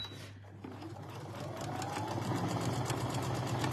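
A sewing machine stitching a quilt top, its rapid even needle chatter and motor whine building up and steadying into a continuous run, close by, with no talking.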